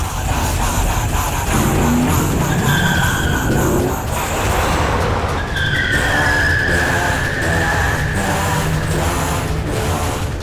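A car speeds along in a TV drama as its engine roars steadily and its tires squeal in long skids, loud and close throughout with no break.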